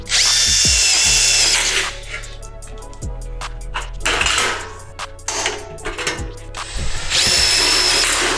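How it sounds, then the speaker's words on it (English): Screws are driven into a metal stud with a power drill, producing loud, near whines in bursts that start and stop, separated by metallic clinks and clatter from handling the stud and screws. "So it makes it easier to drive your screws"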